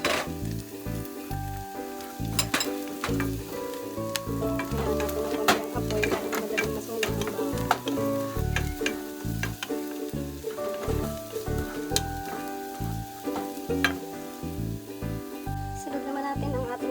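Garlic frying in a pan for a Filipino home-cooked dish, giving a steady crackling sizzle with dense spitting pops, moderately close and continuous throughout.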